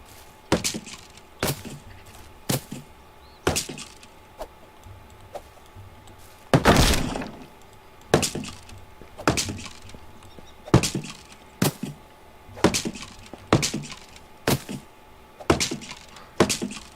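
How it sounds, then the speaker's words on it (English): Wooden house being torn down in Medieval Dynasty, a steady series of sharp wooden cracks and splintering knocks at regular intervals, one heavier crash partway through, no talking. "So now we can tear this one down and put another big house here."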